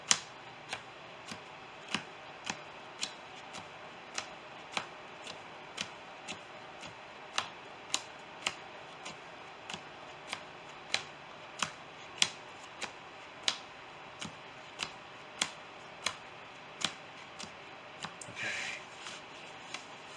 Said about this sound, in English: So let's do my power shuffle again.